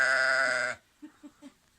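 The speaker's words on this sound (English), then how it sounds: "and Tassos raises sheep. 120 head." A single loud sheep bleat up close, followed by three faint, short sounds in quick succession.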